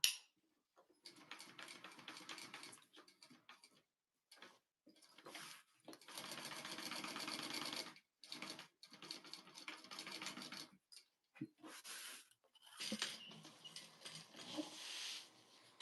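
A sewing machine stitches a crossbody bag in repeated runs, its busy mechanical whir starting and stopping in bursts with short quiet gaps between, fairly close and alone with no talk.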